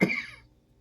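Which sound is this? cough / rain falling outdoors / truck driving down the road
cough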